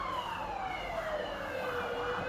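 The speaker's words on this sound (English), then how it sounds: "the fire and ambulance here sounds just like in the U.S." A fire engine or ambulance siren in Australia wails with a slowly falling pitch, moderately loud over street traffic noise, passing outside.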